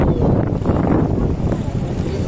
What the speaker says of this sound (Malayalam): ഭയങ്കര മഴയാണ്, കാറ്റുണ്ട്, നല്ല കാറ്റും മഴയുണ്ട്.